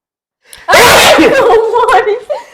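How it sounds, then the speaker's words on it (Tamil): One loud, close human sneeze: a sharp explosive burst after a quick intake of breath, then a trailing voiced exhale. "இதுதான் நம்மளோட தும்மல்."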